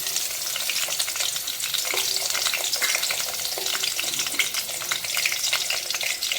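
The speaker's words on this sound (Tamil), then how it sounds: "இந்த வறுவலுக்கு எண்ணெய் ஊற்றியாச்சு இப்போ வந்து தக்காளி சேர்த்துக்கலாம்" Tomato frying in hot oil in a pan for a potato fry, with a loud continuous sizzle and crackle up close, plus occasional stirring scrapes and no voices.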